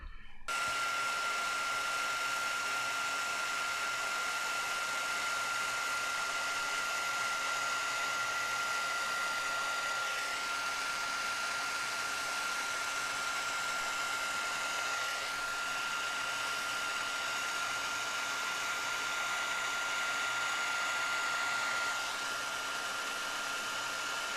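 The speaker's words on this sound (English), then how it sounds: "I'll get my heat tool warmed up and we'll melt the powder" A heat tool melts gold embossing powder on a greeting card panel, blowing a steady, close, unbroken whir with a thin whine for the whole stretch.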